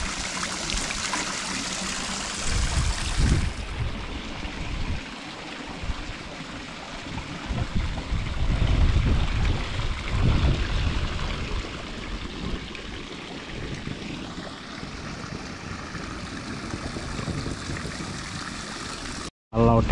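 Water pouring from a spout at a mountain spring on Gunung Lawu, a steady splashing trickle that swells and fades while someone speaks nearby, with wind and outdoor ambience.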